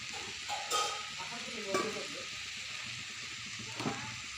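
Lightly boiled Maggi pasta tipped into a pan and stirred, with a soft ongoing sizzle under scattered scraping and clinking from the stirring, fairly quiet and steady throughout.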